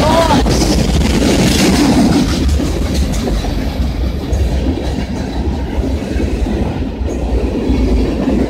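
A train passes close and loud, with heavy continuous rumble, rhythmic clickety-clack of wheels over rail joints and faint wheel squeal, rolling steadily for several seconds.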